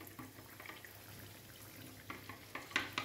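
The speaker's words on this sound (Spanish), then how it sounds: "conforme se va friendo, se va soltando de la buñolera" Batter for buñuelos frying in hot oil on a buñolera iron, a soft steady sizzle and bubbling with a few louder crackles and splashes toward the end, fairly quiet and close.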